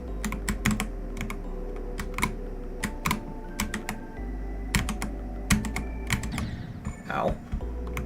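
Rapid, uneven bursts of computer keyboard typing clatter close by, with sharp key clicks in clusters and short pauses, over a low background hum and faint sounds from a platformer game.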